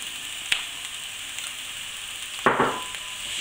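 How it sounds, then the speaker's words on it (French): Aubergines frying in hot oil in a pan for a Provençal vegetable flan. A continuous hiss of sizzling runs throughout, with a brief louder crackling burst near the end. "Lorsque mon huile est chaude, je vais mettre les aubergines."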